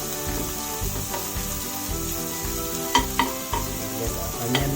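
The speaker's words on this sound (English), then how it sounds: "Let the onions simmer slowly." Spring onions fry in a pan for a prawn coconut curry, giving a continuous sizzle with scraping stirs and a few sharp utensil knocks against the pan.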